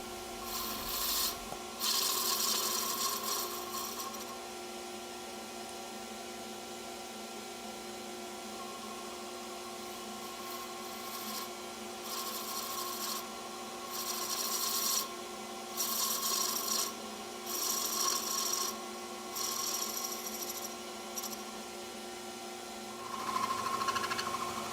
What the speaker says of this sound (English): now I'm giving some taper to the handle.